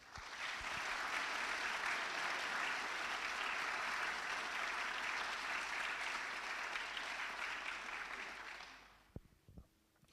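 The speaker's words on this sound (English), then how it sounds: "Please join me in a round of applause in honor of our distinguished guests." An audience at a military change of command ceremony applauds for about nine seconds, a dense steady clatter of many hands that fades out abruptly at the end, with no talk over it.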